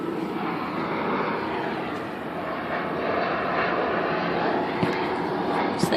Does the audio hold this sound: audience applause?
no